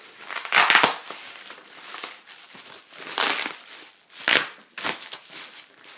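A tightly wrapped book parcel being cut open, with close bursts of crinkling, crumpling wrap and cutting in irregular bursts separated by short quieter pauses.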